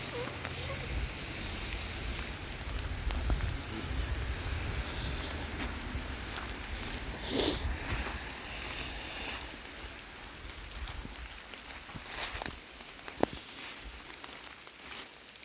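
Steady pouring rain falling through the woods, a dense continuous hiss with scattered drip impacts, recorded close and fairly even, with a brief louder rustle midway.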